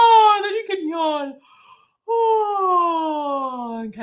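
A person produces long, drawn-out yawning vocal sounds, gliding down in pitch, with a short breathy pause between two stretched exhalations.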